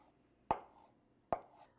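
Two crisp knife chops through tofu against a cutting board, evenly spaced about a second apart, close and clear in a quiet room.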